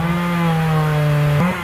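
A chainsaw runs at a steady, loud high whine while cutting the top of a yellow-flowered acacia tree, its pitch dipping briefly near the end as the engine eases off.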